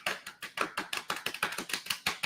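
A voice imitates stomping on cockroaches in a house: rapid, evenly spaced percussive smacks, about a dozen sharp hits in quick rhythm, close and fairly loud with no other sound.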